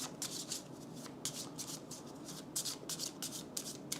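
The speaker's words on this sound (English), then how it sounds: "we're shuffling the shadow discard pile and putting it on top of the deck" A pile of game cards is riffle-shuffled close up, producing repeated quick papery bursts in an uneven rhythm, with no voices.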